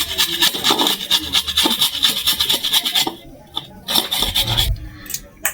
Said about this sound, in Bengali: আমি একটা চাঁচা মেশিন নিয়েছি মানে ছোলা মেশিন এতেই আমি চেঁচে নেবো